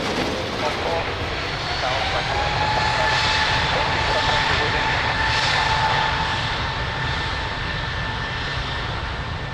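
A jet airliner roars through its takeoff run on runway 02 at Lisbon Airport, a loud steady engine rumble with a whining tone that swells and holds throughout, with faint radio chatter in the background.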